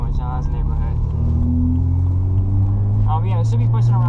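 A turbocharged BMW 335 with an upgraded charge pipe and blow-off valve pulls hard, its engine tone rising steadily and loudly from inside the car while people talk briefly over it.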